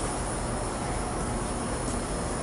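Subway train approaching a platform at an Ottawa station, a steady loud rumbling roar with electric buzz that fills the whole clip without letup.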